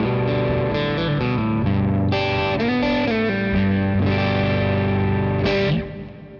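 Electric guitar runs through an MXR Timmy Overdrive pedal set to symmetrical clipping, giving a driven, saturated tone as chords and melodic notes ring and sustain continuously, then cut off sharply at the end.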